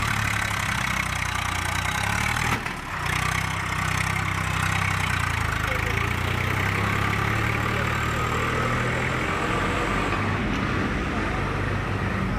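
An overloaded tractor on a road in Hathras drones steadily with a loud, continuous low engine rumble, close by and unbroken, with traffic noise around it and no clear talk over it.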